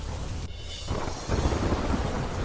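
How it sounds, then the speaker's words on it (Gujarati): Heavy downpour with thunder over rural villages in Gondal taluka, a steady dense roar of rain with low rumbling that swells louder partway through, heard alone without voices. "ગોંડલ તાલુકાના ગ્રામ્ય પંથકોમાં લાંબા વિરામ બાદ ધોધમાર વરસાદ."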